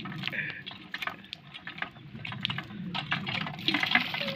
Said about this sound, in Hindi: ओहो ऊपर से आ गया पानी, वो देखो।